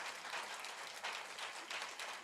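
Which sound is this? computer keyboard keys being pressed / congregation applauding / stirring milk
congregation applauding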